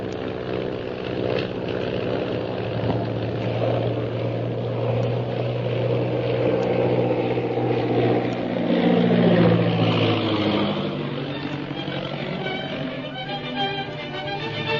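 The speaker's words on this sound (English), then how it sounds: "Jim, I'm going to climb above the Purple Triangle plane without the pilot seeing us" Droning propeller airplane engine used as a sound effect in an old-time radio drama, a steady loud hum that swells and shifts pitch midway, with no voices.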